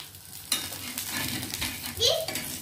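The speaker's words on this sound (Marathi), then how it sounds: "अजून याला 1-2 वेळा पलटून छानच भाजून घ्यायचं" Alu vadi pieces roast in a pan on a low flame, a soft steady sizzle with spatula scrapes and clinks as they are flipped, while a voice is faintly heard nearby.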